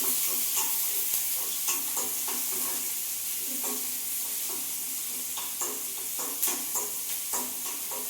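Chopped small onions sautéed in a pan: a continuous sizzle broken by repeated scraping and clinking stirring strokes at an uneven rhythm, close up, with no voices.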